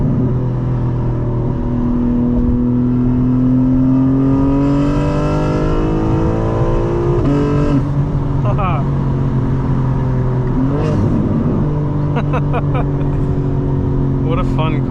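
A 2025 BMW M4 Competition xDrive engine revs and accelerates strongly in rear-wheel-drive mode, its pitch climbing through gear changes, with someone talking over the loud, steady engine noise.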